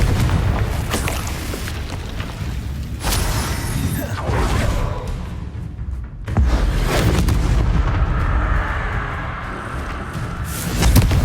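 Confringo blasting spells in Hogwarts Legacy burst in heavy booming explosions with whooshing fiery tails, several loud blasts in quick succession amid battle noise.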